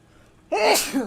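A single sharp sneeze bursts out after a quiet moment in a cockpit setting, loud and close, with a short trailing breathy tail.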